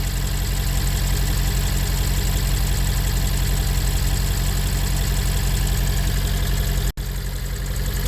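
A used imported car's engine idles steadily and close, a continuous even rumble with a fine rhythmic knock running throughout, broken by one brief dropout near the end, with no talk.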